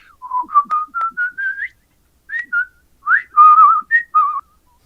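A person whistles a tune from an old comedy record, a clear, close melody of quick rising and falling notes in two phrases separated by a short pause.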